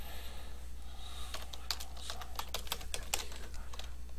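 Computer keyboard keys are pressed to enter a transaction code into SAP software, a quick irregular string of light clicks at close range over a low steady hum, with no talking.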